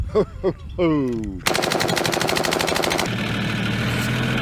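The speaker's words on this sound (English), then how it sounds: "Now I have a machine gun." An M16 machine gun fires on full auto in one rapid, loud, sustained burst of close shots. The burst follows a short stretch of tonal, rising noise and gives way to a rumbling, engine-like drone.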